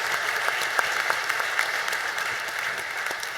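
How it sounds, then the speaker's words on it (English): Steady audience applause for the panelists at the close of a racing-conference panel discussion, a dense even wash of many hands clapping at moderate volume, with a few sharper claps standing out. "please, a big round of applause for all of our panelists"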